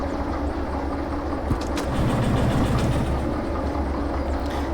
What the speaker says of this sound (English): just inching up to this locomotive now